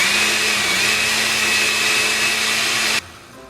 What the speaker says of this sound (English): And blend.